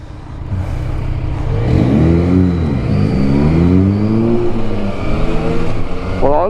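A 2-litre GTI engine revving loudly close by, climbing and falling through several pitch sweeps over a steady idle rumble, with a sharp rise at the end.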